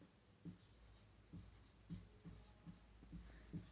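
Handwriting with a pen on paper, close and quiet, working out a numerical problem on reflection of light: a run of short scratchy strokes and taps at an uneven pace, with no talk.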